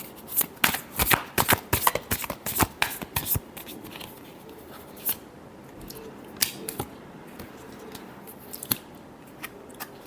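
Tarot cards being shuffled by hand, a quick run of crisp riffling flicks packed together at first, then thinning out into scattered, softer card snaps close by with no talking.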